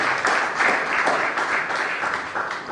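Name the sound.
audience applauding the commissioner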